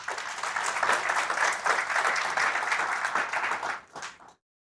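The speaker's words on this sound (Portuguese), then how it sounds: "uma salva de palmas a vocês" Sustained audience applause at a Porto tech community conference fills the room steadily for about four seconds, then thins to a few last claps and stops abruptly.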